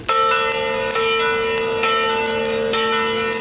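Loud church bells ringing continuously in Italy, their strikes overlapping in a dense, sustained resonant clang.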